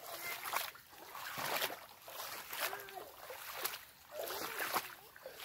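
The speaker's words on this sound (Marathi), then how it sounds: "पाण्याचा आवाज येतच असेल तुम्हाला." Water rushing and trickling through flooded rice paddy fields in the Konkan during the planting season, a steady broad wash that rises and falls. Faint outdoor background with no clear talk over it.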